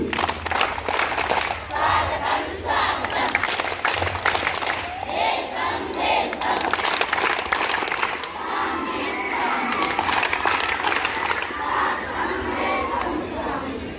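Scouts at a school camp give a welcome clap, a loud, continuous burst of group shouting and chanting mixed with clapping from a crowd of children, sustained throughout.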